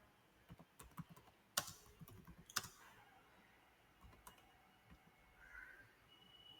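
Sparse keyboard typing close by, with scattered key taps and a few sharper clacks in the first few seconds, then quieter isolated clicks, no voices.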